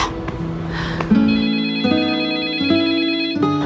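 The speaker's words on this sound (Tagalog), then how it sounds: "Telepono ko yata yun" Telephone ringing alone, loud and close, with repeated electronic tones stepping through a melodic pattern in a steady rhythm.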